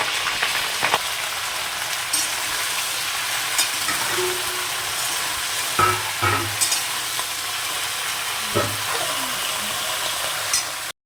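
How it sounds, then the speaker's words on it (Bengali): Cauliflower florets fry in hot oil, a steady bright sizzle running throughout with occasional scraping and knocking from stirring in the pan. "তেলটা গরম হয়ে গেছে, এর মধ্যে আমি ফুলকপিগুলোকে ভালো করে ভেজে নেব।"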